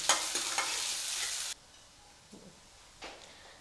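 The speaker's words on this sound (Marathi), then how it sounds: "थोडासा ठेचलेला लसूण परतून घ्यायचंय आणि बारीक चिरलेला कांदा, थोडी कोथिंबीर आपण फोडणीतच घालू आणि कांदा आपण परतून घेऊ" Crushed garlic and finely chopped onion sauté in hot tempering oil for a Maharashtrian pithla, giving a loud, close sizzle that suddenly drops after about a second and a half to a quiet hiss with a few soft stirring clicks.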